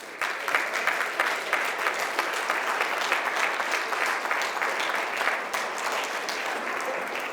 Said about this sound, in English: Delegate Danny Wagner and Delegate Ben Green, if they would stand, please give them a round of applause